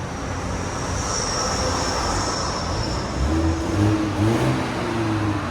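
A stock 2021 BMW M430i 2.0L turbo engine revving, heard quietly under broadband noise, with a couple of brief rising revs near the end.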